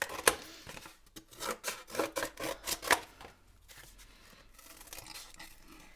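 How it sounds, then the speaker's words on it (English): Scissors snip through thin cardboard from an Amazon box while cutting out two circles for a pom-pom maker: a run of about eight close, crisp rasping cuts, then quieter rustling. "Now we're going to cut it out. Cut out our two circles."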